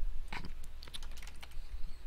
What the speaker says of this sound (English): Wow, bad typing.